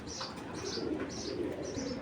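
Pigeons at a Bangladeshi loft of Giribaz and other fancy breeds, including a new Cheeta Military cock, giving soft repeated coos in a steady rhythm, close by over a low background murmur.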